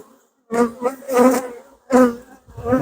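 Honey bees buzz around a hive during a transfer and inspection, a dense close drone swelling in bursts with brief near-silent gaps between passes.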